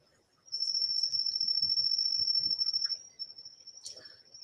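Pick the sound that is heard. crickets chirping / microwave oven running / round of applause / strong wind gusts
crickets chirping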